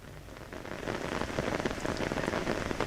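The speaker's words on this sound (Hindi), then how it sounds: "पटना में जो है वो बारिश तेज है।" Heavy rain pours down in Patna, a dense steady patter of drops striking surfaces that swells slightly after the opening moment and then holds loud and continuous, with no voices.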